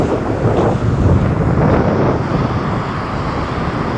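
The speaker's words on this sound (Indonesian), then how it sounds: "Anginnya kenceng sih, mudah-mudahan suara saya masih jelas ya, nggak ketutup sama angin." Strong wind at a beach in Gunung Kidul, Yogyakarta, buffets the microphone in a continuous loud, low rumbling roar that barely varies over several seconds, with no voices audible.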